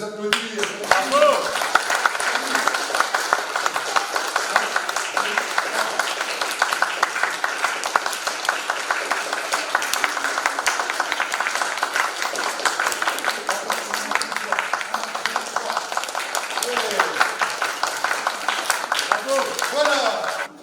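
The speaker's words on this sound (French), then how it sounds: "Quand on les applaudit, Bravo." An audience at an artistic stage show claps steadily for the performers, a dense, even patter of applause sustained for about twenty seconds at moderate level.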